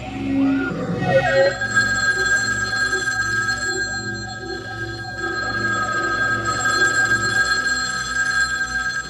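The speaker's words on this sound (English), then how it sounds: "suddenly all the payphones start ringing" Several payphones ringing together in a 1982 science-fiction film, a continuous electronic ringing chorus with steady tones layered over a low background hum, holding fairly loud across the whole stretch.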